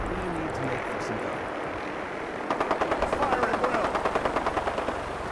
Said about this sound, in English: They're not shooting at me, are they?